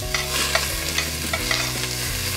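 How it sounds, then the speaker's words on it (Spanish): Chopped onion sautés in hot oil in a pan, cooked as a base for Veracruz-style stuffed chiles, giving a steady close sizzle with stirring scrapes and no voices. "Para que se sofría la cebolla"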